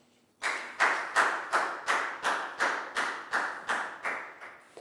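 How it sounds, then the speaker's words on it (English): A class of pupils applauds a classmate in a primary maths lesson, giving a short burst of about a dozen rhythmic group claps, evenly paced and fairly close, with no talking over it. "a big round of applause for Lackout"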